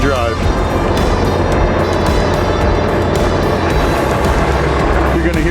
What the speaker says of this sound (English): You're going to hear the engine rev up a little bit